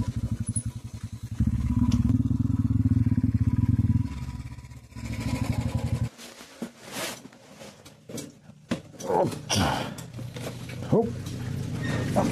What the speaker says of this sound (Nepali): फुल ट्याङ्की गरेर त निकै भारी भयो कि बाइक त